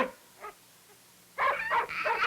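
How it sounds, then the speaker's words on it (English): A dog gives a few short whiny yips and barks, close by, with a quiet pause between them. "Dowsy, stop that barking, you hear me?"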